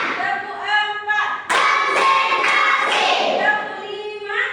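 Young pupils clap together in a classroom rhythm game, a loud sustained burst of many hands after a sung count, with children's voices around it.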